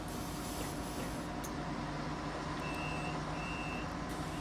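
A Solaris Urbino 8.9 LE bus door in the OMSI simulator gives two steady electronic warning beeps over a constant engine hiss, followed by a faint closing thud.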